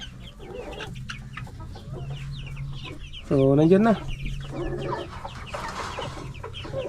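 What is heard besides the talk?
Dekalb White chickens clucking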